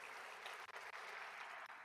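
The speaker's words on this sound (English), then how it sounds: "Yes, you can clap." Audience applause at a community center grand opening, a steady wash of many hands clapping for about two seconds with a few brief dips, fairly distant and even.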